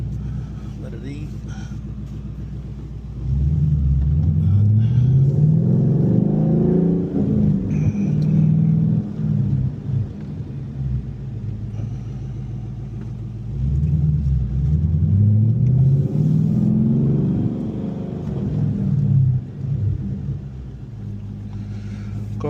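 A car nicknamed the Bozo the Clown Boss revs hard and accelerates in two long surges, its engine note climbing loudly up close, with a voice talking over it at times.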